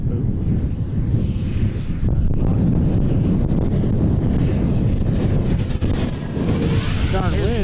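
A Dynam Gloster Meteor twin 70mm electric ducted-fan RC jet on 4S power roars past on a very windy day, its whine loud and sustained under gusting wind noise with a rising-falling pitch near the end.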